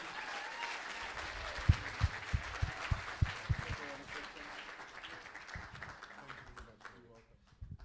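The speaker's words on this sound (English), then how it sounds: "Alderman James Force, with a round of applause as he comes to stage, everybody." An audience at a graduation ceremony claps and applauds steadily as a speaker comes to the stage, with some sharp louder claps near the front and voices murmuring underneath before the applause fades out.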